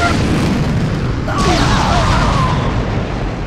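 Ships open fire in the action game Asura's Wrath, and a heavy, continuous rumbling barrage of booms and explosions fills the scene, loud and sustained, with a sharp burst near the middle.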